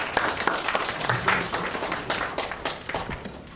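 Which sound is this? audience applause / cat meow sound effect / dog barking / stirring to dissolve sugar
audience applause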